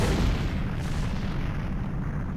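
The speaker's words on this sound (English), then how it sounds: "I remember with great fondness N64 explosions." Explosions rumble through a cutscene in Zelda: Ocarina of Time on the N64, a loud, continuous low booming roar that slowly fades, with no talking over it.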